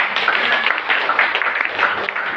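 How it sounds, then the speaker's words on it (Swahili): A church congregation claps for Jesus in a steady, dense wash of applause that holds at an even level throughout, with no pauses. "Pigia Yesu makofi."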